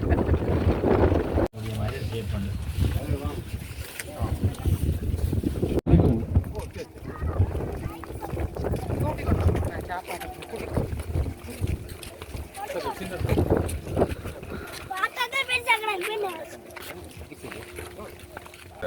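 A BBQ safari boat moves over the water off Mandaitivu island, with steady engine rumble, water wash and wind noise under continuous speech.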